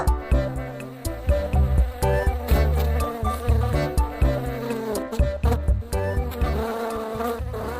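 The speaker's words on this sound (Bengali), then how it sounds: "গুঞ্জন তৈরি হয় এর আওয়াজ মনোমুগ্ধকর তাই নয় কি ব্যস্ত মৌমাছিগুলো সত্যি বিস্ময়কর" Cartoon bees buzz busily in an animated story, a humming drone woven through a bright musical score, pulsing in short swells without any talk.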